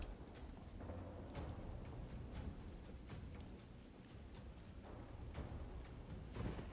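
Soft, steady rain from a spell in the Divinity: Original Sin 2 video game patters throughout, with faint scattered drips and a low rumble underneath, fairly quiet and unbroken.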